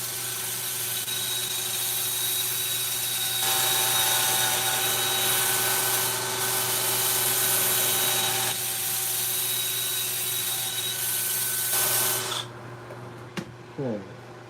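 A wood lathe hollows the inside of a bowl, giving a steady whirring hum with a scraping, rubbing texture that continues for several seconds and then cuts off, leaving a few faint clicks.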